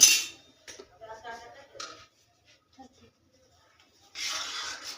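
A utensil stirs flour into warm ghee in a pot, giving soft scraping and clinking strokes in short bursts with gaps between them, then a louder hissing scrape at the end.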